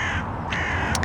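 A crow caws loudly close by in a garden, one harsh drawn-out call over steady background hum, with no talk.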